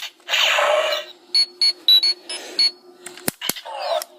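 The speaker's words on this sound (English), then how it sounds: "you get the communicator beep from Mighty Morphin up till Turbo" A Power Rangers Super Megaforce Legendary Morpher toy plays its electronic communicator beep: a short run of high, clipped tones in quick bursts, loud and close, followed by a couple of sharp clicks.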